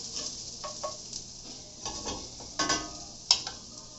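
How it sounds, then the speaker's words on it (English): Onions caramelizing in a pan while cooking cactus tacos, with a steady low sizzle beneath intermittent stirring scrapes and a sharp clink of a utensil against the pan. "Onions are caramelizing very nicely over here."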